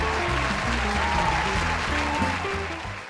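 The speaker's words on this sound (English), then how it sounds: "Please give yourselves a round of applause." A conference audience at a chamber of commerce event applauds in a dense, sustained round, with background music tones underneath, fading slightly toward the end.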